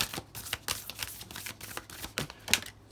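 Rapid papery riffling and flicking of tarot cards, a dense run of crisp bursts repeating over a few seconds, close up with no talking.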